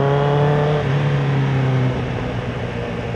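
A Ferrari sports car engine drones steadily at close range, its harmonic tone holding then dropping slightly in pitch as the revs ease off, with no talk over it.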